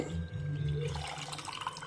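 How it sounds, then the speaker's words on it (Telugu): Water poured into a pot of curry, a brief close gush of liquid that fades into softer splashing and trickling, with no speech. "ఇట్లా ఫుల్గా నీళ్ళు పోసేయాలండి"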